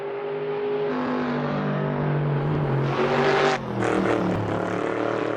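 A race car engine revs hard and sustained on a rain-soaked track, loud and close, its pitch climbing and surging with a brief dip before roaring on.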